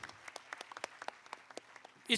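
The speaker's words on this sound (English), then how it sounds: "I think they deserve a thunderous applause." Scattered, fairly faint hand claps pop irregularly in quick succession, like a small audience applauding from a distance, at a quiz competition's regional finals.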